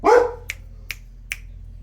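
A single dog bark sounds close and loud at the start, followed by three short, sharp clicks spaced evenly apart over a faint background hum.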